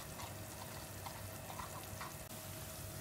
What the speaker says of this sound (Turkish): 2-3 dakika daha kavuracağım.